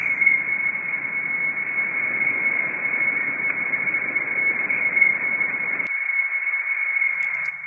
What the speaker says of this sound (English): I've also got some tremolo.